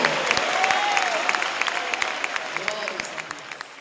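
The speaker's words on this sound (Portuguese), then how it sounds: "A igreja pode louvar ao Senhor com palmas." A church congregation in Recife claps during worship. Dense, continuous applause carries throughout, with a few sharper individual claps and voices rising through it.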